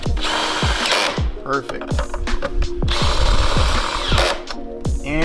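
A power drill tightening bolts on a Ford F-150 catch can bracket, with repeated short whirring bursts and ratcheting bites, close and loud; a voice speaks briefly near the end.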